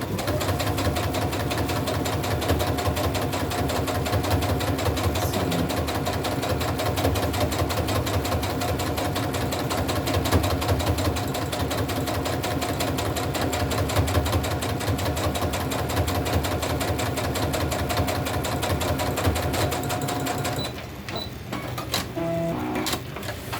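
Sewing machine stitching fabric for a crazy crumb quilt block, a steady rapid mechanical whir running loud and continuous for about twenty seconds before stopping, followed by faint handling noises.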